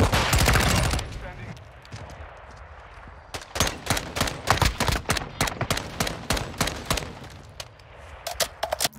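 Modern Warfare 2 gameplay with the Honey Badger rifle: a dense burst of automatic fire, a pause, then rapid sustained shots in quick succession, loud and up front.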